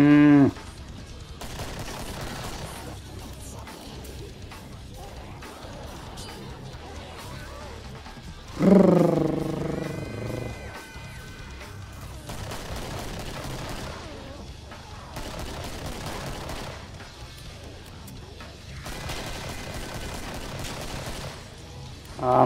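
Gunfire in the zombie shooter Killing Floor comes as repeated bursts of shots spread over about twenty seconds, loud and close, mixed with game music and creature sounds.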